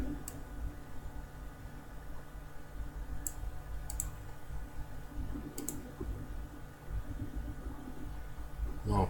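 A computer mouse gives a few sharp, faint clicks, spaced irregularly across the stretch, over low steady room hum.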